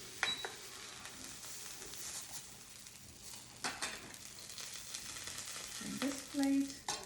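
Gentle sizzling of a cheese quesadilla in a frying pan with a few soft clinks of utensils against the pan.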